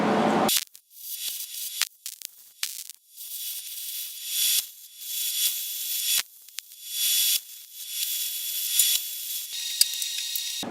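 Steel brackets are tack welded onto a bed frame for a rolling planer stand, with a series of short, loud crackling hiss bursts from the welding arc separated by brief silences, each tack lasting about a second.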